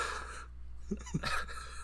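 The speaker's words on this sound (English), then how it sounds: "We have a gasp from the jury." A short, sharp intake of breath, a gasp heard close and clear, followed by faint breathy sounds.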